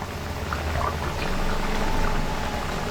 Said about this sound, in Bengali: তো মুইঠাগুলো আমি উপর থেকে দিয়ে দিচ্ছি।